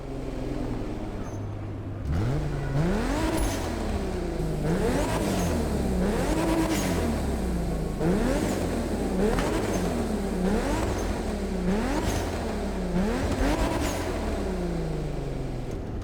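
A Toyota Supra sports car engine in the game The Crew Motorfest, heard from inside the cabin, revving up repeatedly through gear changes in a rising and falling pattern, loud and continuous.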